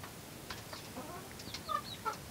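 A rooster clucks softly in a few short, low calls, faint against a quiet background.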